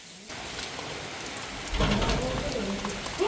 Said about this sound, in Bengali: বৃষ্টি দিনে না হয়ে আর রাতে হইলে কিন্তু বেশি ভালো